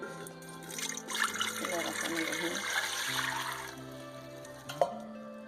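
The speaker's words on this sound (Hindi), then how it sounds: "ये मेरे पास 6 गिलास पानी के हैं जो मैंने इसके अंदर शामिल किए।" Six glasses of water are poured into a pot on a stove for chicken yakhni pulao, trickling and splashing in a steady stream that ends in one sharp clink, with a voice speaking over it.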